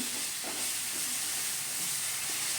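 Dal with spices being slowly stir-fried on a low flame, producing a steady, even hissing sizzle throughout with only faint stirring movement beneath it, close and uninterrupted.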